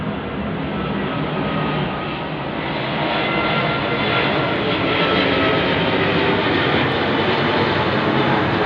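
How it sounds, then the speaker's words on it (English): A low-flying airplane passes overhead, its loud engine roar swelling slightly and staying steady throughout, with no speech. "That plane is actually very low to my eyes"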